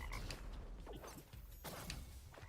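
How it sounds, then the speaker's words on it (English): Toxic frogs from the Acid Rain event in Terraria's Calamity mod croak in quick, raspy bursts, mixed with game whooshes and hits, fairly faint and continuous. "Alright, Acid Rain event. Here come the toxic frogs."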